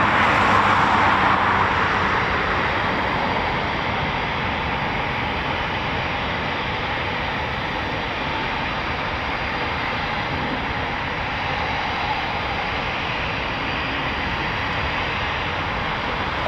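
Several Eurofighter Typhoon FGR4 jets taxiing at RAF Coningsby, a continuous broad engine roar and whine heard from a distance, steady in level for the whole stretch with no talk over it.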